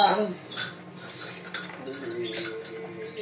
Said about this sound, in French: Je vais prendre une petite cuillère, attendez, je prends une petite cuillère.